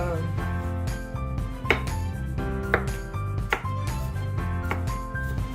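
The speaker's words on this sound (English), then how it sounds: "I'm just chopping, okay?" Steady knife chopping of callaloo on a cutting board, a few sharp knocks standing out over a low humming background, no talking.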